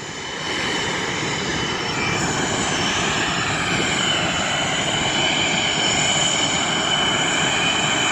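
Blue Angels jets taxi after landing at an air show, their engines producing a loud, sustained roar and whine that holds steady and builds slightly, close by and without voices.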